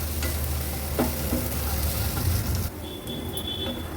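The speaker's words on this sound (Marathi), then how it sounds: "ही भेंडी एक तीन ते चार मिनिटासाठी व्यवस्थित आपण अशी भाजून घेऊया" Okra (bhindi) stir-fried in a pan over a medium-high gas flame, a dense close sizzle with scraping spatula strokes that eases slightly partway through, then continues with a faint high whine.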